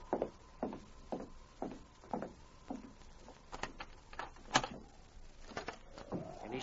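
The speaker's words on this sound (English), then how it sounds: "I'll open the door for you and King." A door being opened inside a store in a Yukon frontier drama, heard as a near series of knocks, thumps and rattles with a scraping slide toward the end, and no talk.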